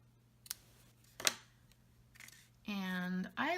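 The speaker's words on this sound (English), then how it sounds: "And then I'll trim it." Scissors trim a paper gate fold card with three crisp, separate snips at close range. A person then starts talking.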